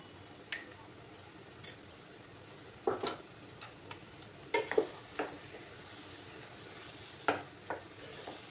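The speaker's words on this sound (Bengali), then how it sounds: "অনেকক্ষণ ধরে নাড়াচাড়া করে যেতে হবে।" Kachu shak (taro greens) being stirred in a pan, with faint sizzling under scattered light scrapes and clinks of a utensil against the pan, spaced irregularly and heard close with no talk.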